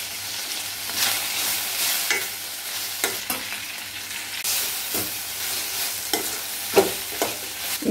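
Chutney ingredients sautéing in a pan, a hissing sizzle with irregular scraping stir strokes and occasional louder knocks of the spoon, close and with no one speaking.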